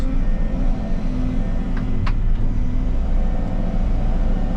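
A bulldozer engine runs with a steady low rumble, close and continuous, with a couple of brief clanks over the drone and no talk.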